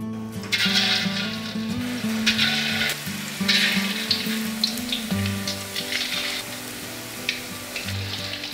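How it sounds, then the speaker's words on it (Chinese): Chicken meatballs frying in hot oil in a wok, made in the rural Chaozhou way, give a steady, close, loud sizzle with bursts of crackling that rise and fall throughout, with no talking. "来把丸子揉到锅里面炸"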